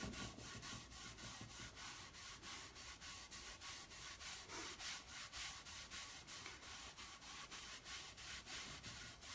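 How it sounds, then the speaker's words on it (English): A wooden bowl being polished by hand, steady rhythmic rubbing strokes of cloth over wood, soft and close, repeating evenly with no talking. "There's just something therapeutic about polishing wood."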